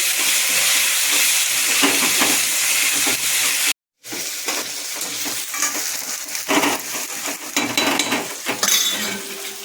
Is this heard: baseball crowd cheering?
no